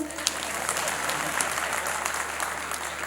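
An audience at a poetry recital gathering claps in a steady, full round of applause with some crowd murmur underneath.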